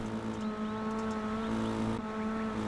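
Race car engines from the K5 Super Dash series at Volusia in the iRacing sim, a steady layered drone of several motors with sustained harmonic whine, fairly quiet, with no talk over it.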